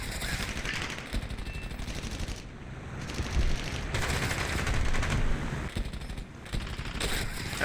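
An F4U-4 Corsair's machine guns fire in a flight combat video game, giving long, dense rattling bursts with short pauses between them, loud and close over engine roar.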